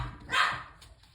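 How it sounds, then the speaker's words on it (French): A single loud, close dog bark, one short sharp yap over a low background rumble. "Ça y est, il jappe."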